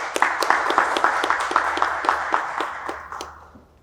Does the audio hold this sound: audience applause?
yes